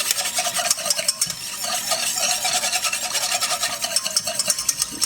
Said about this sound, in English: So what I'm doing now is just whisking it really good just to kind of break up any of pieces of cornstarch